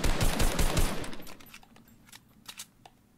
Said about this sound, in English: If you don't have a sniper, I'm willing to take an AR battle with you.